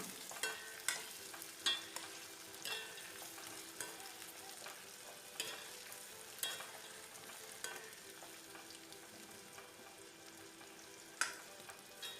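Brinjal sautéing in oil in a pan, a faint steady sizzle broken by occasional soft stirring clinks and scrapes, close and quiet with no talk.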